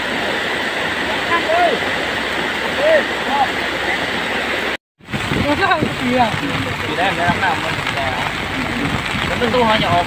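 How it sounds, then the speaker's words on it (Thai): Floodwater rushes like a river through a village in Mae Sai during the September 2024 flooding, a loud, continuous roar that drops out briefly, while someone talks over it. "น้ำเชี่ยวจริงๆครับเป็นแม่น้ำไปแล้วครับ"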